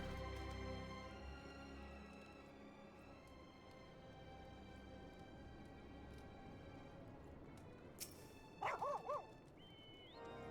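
A dog barks in Final Fantasy XIV, a short cluster of yips near the end over steady game music.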